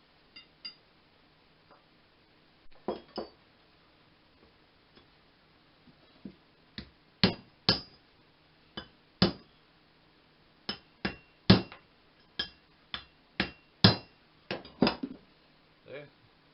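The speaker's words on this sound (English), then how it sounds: "take this punch, I'm going to split that open" A steel punch is hammered into a hatchet blade blank to split and wedge the metal open, giving a run of sharp, ringing metallic strikes, irregular at first and then in quick clusters, close and loud.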